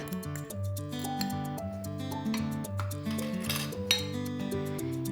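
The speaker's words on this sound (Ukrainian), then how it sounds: "і перемішую" A salad of apples and mandarins is stirred with its dressing in a bowl, with light clinks and taps of a utensil against the dish over soft background music.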